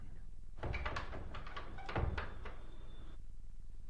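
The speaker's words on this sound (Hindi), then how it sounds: "दरवाजा जरूर बंद कर देना।" A door is pushed shut indoors in a Hindi radio-drama scene, with a cluster of knocking and rattling thuds and a closing bump, fairly close and moderately loud.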